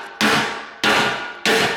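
Three hard metallic hammer blows land about half a second apart on a rusty exhaust pipe, each with a dull clanging ring that fades.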